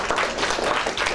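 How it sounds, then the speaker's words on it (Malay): A classroom of pupils applauding three classmates after a short performance, a brief steady patter of clapping hands filling the room. "Tepuk tangan untuk mereka bertiga."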